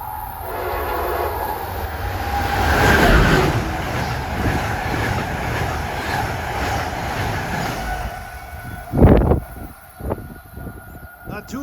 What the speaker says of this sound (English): Here comes Amtrak 93 at 517,